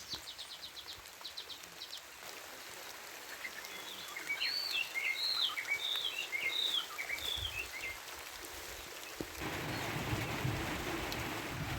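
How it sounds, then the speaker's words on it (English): Steady rain patters in a soft hiss that grows a little louder partway through, with a few bird chirps sounding in the distance. "One moment the sun is out shining and the next it's raining."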